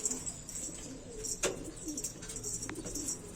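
Pigeons in a loft cooing softly, low throaty murmurs with a few faint chirps and a brief rustle or flutter, quiet and somewhat distant against light background noise, with no talking.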